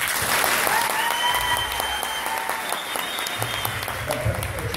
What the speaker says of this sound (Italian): quindi l'applauso deve essere commisurato.